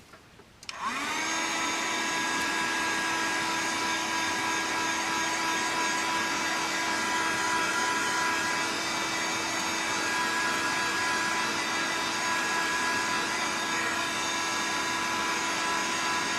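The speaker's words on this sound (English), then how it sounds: "give it a blast with the heat gun" Heat gun blowing hot air over a brayered card background, a loud steady whine with a constant tonal hum that starts abruptly and runs unbroken, close up, no talking.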